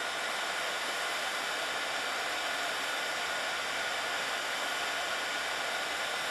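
A heat gun heat-setting embossing powder on cardstock blows a steady, unbroken hiss of hot air, loud and close, with no pauses or voices throughout.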